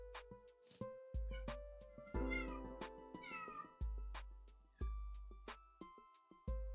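A pet cat meowing twice in a row, a close, clear pair of short meows set against faint background music with a repeating beat.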